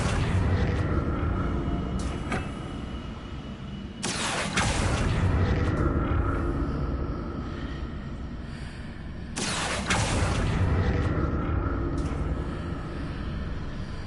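Fire spells Incendio and Confringo blast in the video game Hogwarts Legacy: two sharp, heavy booms several seconds apart, each bursting loud and decaying into a rumbling tail over continuous game-combat noise.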